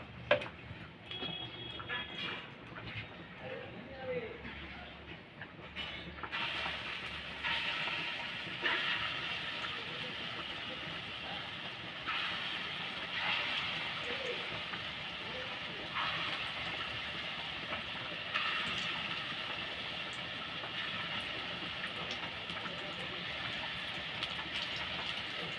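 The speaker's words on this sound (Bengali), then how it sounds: "এভাবে বাকি বড়াগুলো ভেজে নেব।" Lentil fritters (bora) fry in hot oil with a steady, crackling sizzle that continues throughout, with occasional brighter pops and faint kitchen clatter.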